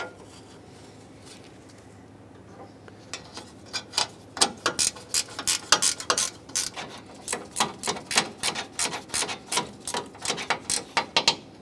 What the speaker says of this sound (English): If you have a ratcheting wrench, that would be the best tool to stick back here.